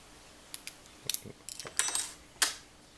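Clicks and light metallic scrapes of a tension wrench and hook working the pins of a Master Lock 911 padlock, scattered short ticks building to a brief rattling burst, close and quiet with no talking.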